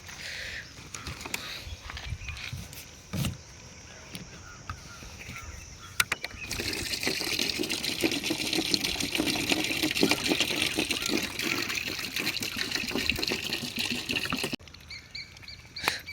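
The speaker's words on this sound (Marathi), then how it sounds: "चला आता पाणी ओतूयात." Water poured from a container for street dogs outdoors, a steady splashing stream lasting several seconds, with birds and background voices around it.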